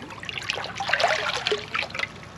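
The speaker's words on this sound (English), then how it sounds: "I'm just going to stir it around a little bit" Sanitizing solution stirred around in water, a near trickling and sloshing with irregular splashes over a couple of seconds, no talking.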